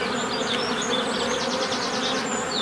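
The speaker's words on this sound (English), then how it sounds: "The bees that are flying around me give me a little buzz" Swarm of honey bees buzzing steadily and loudly around a beekeeper during queen rearing, a dense continuous drone with individual bees whining past close by.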